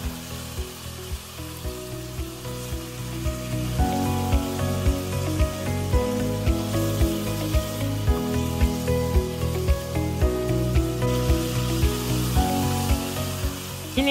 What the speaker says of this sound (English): flavor is developing during the frying process